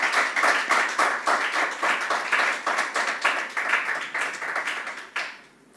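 An audience at a family life teaching session claps steadily and fairly loud with a fast, even patter, alone with no talk, then tapers off near the end.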